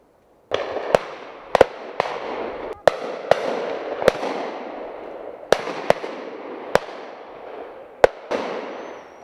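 Shotgun blasts ring out during game shooting, about a dozen sharp reports at irregular intervals, some close and loud, others fainter, each trailing off in a short echo across open ground.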